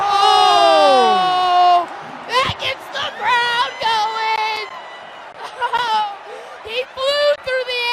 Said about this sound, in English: That gets the crowd going!